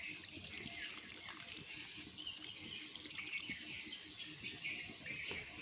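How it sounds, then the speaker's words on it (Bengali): Water pours steadily into a cooking pot for boiling potatoes, a continuous close splashing stream with faint birdsong in the background. "আর একটু জল দিব"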